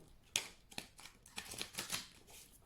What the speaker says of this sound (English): you might not be able to see me shuffle